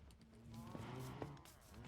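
Cows mooing in the Minecraft Bedrock game: several low, drawn-out moos overlap against a steady background, with a couple of short clicks, fairly close and clear, no talking.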